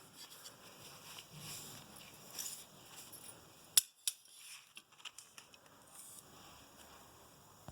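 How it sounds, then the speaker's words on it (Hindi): Sharpened scissors snipping through cloth, a run of close, crisp cuts in quick succession after a brief pause, alone without talk. "अब हम कपड़ा काट के दिखाएंगे आपको। देखिए कितना तेज़ तरीके से कट रहा है।"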